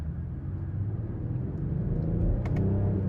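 Inside a 2023 BMW X6 xDrive40i M Sport with its 3.0-litre turbo engine, cruising in comfort mode, a low, quiet cabin rumble of engine and road noise builds slightly, with a couple of faint ticks.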